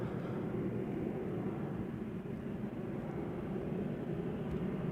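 A KLM Boeing 737 departing Amsterdam Schiphol for Copenhagen produces a distant, steady low rumble of jet engines that holds evenly throughout, fairly faint and without voices.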